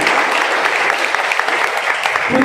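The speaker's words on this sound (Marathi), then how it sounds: "एकदा जोरदार टाळ्या जीजी चोडणकर यांच्यासाठी." A crowd at an awards event gives loud, sustained applause for veteran Dashavatar folk theatre artist GG Chodnekar, many hands clapping densely and evenly, with faint voices mixed in.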